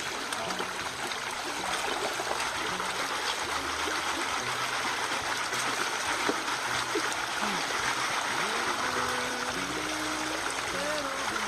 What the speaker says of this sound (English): We're on the creek on Caney Creek